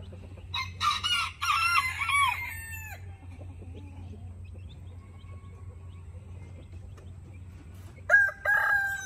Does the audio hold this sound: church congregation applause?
no